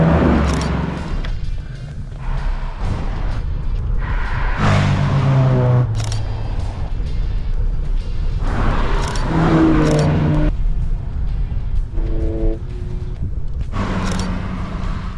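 Fast sports cars roar past one after another on Angeles Crest Highway, engines revving and swelling loudly as each approaches, then fading, with steady road and wind noise between passes.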